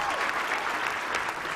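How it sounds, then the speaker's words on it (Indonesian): A studio audience on a television talk show breaks into dense, continuous applause, a thick wash of many hands clapping with a faint voice underneath. "Boleh tepuk tangan."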